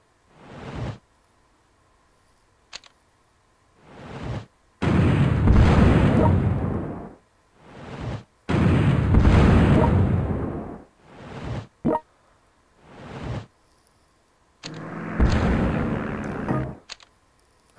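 A fort is shot at and destroyed in the strategy game World Conqueror 4, with several separate booming blasts and bursts of explosion noise between short pops and quiet gaps.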